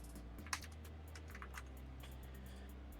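Quiet, clicky typing on a computer keyboard, a short run of light keystrokes spread over a few seconds above a low steady hum.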